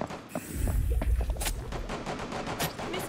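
Video game gunfire during a fight against a bear in an event, heard as a dense burst of rapid shots and clattering mechanical clicks around the middle, then scattered sharp cracks over continuous background noise.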